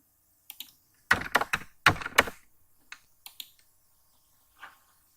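Keys clacking on a computer keyboard as a username and password are entered: two quick bursts of loud, close keystrokes, then a few scattered taps and a final lone press after a pause. No voices.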